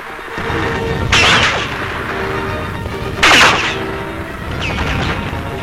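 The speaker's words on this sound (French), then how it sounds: "Les forces insurgées convergeant vers le palais présidentiel au milieu des coups de feu et des incendies" Heavy bursts of gunfire and explosive cracks ring out twice over a constant roar of street fighting during the November 1963 coup against the Diem regime in Saigon, with a fainter burst near the end.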